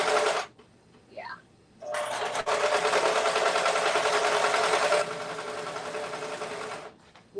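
A serger sewing machine stitches fabric in a continuous loud mechanical whir, starting and stopping briefly before running steadily for several seconds at close range.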